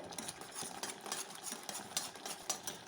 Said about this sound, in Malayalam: പിന്നെ ഇതാ കുറച്ച് നെയ്യും കൂടി ഇട്ട് ഇളക്കി കൊടുക്കുന്നുണ്ട്